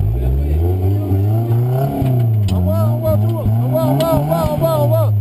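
A motor engine revs hard and close, its pitch climbing and dipping through several bursts of throttle in a loud, continuous drone, with voices heard faintly.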